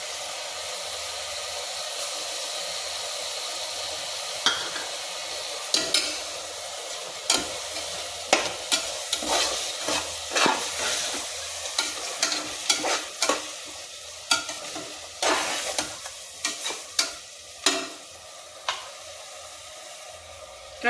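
Ground spice paste of cinnamon, clove, fennel and cardamom is stirred into chicken biryani masala frying in a pot, with a steady sizzle under repeated close scraping strokes of a spoon, no voices.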